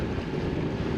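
Boat motor running at sea on the Banda Sea, a steady low rumbling drone mixed with wind buffeting the microphone and water wash, continuous and fairly loud with no voices.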